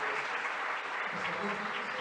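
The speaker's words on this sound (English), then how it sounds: "A big round of applause." Applause for presenters at a Costa Rica intellectual property association session, a dense, continuous wash of many hands clapping at even loudness throughout, with no gaps.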